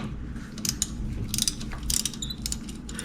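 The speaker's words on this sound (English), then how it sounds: "there's a Allen key down here at the bottom that locks this piece in. So we'll need to loosen this" An Allen key loosens a bolt near the rear wheel of a Delfast electric bike, giving rapid, close metallic ratcheting clicks in short bursts with no talking.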